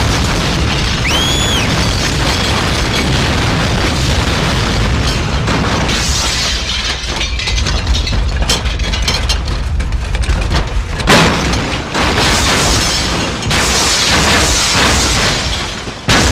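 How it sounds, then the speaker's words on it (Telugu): Tata Sumo cars blowing up in a film action scene, a dense run of loud booms and blasts that roll together with crackling debris and rumbling aftershocks throughout. "విజిలేస్తే సుమోలు బ్లాస్ట్."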